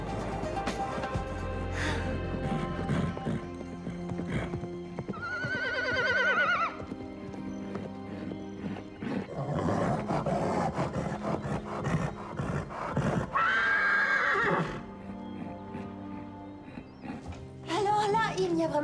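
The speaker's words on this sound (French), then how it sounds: "on voit bien que ce cheval est cinglé" Two drawn-out, quavering horse whinnies rise clearly over a busy background of music and other sounds, one early and one later, each lasting about a second or more.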